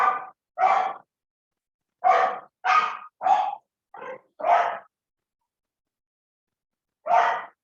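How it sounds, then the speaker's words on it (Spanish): A dog barks about eight times close by: a quick pair, a run of five sharp barks, then a single bark after a pause of a couple of seconds, with no talk over it. "es que me estaba ladrando un perro"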